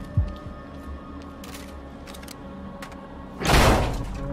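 A door opens in the video game Quantum Break: a soft thump at the start, light clicks and shuffles, then a loud whooshing slide of the door near the end.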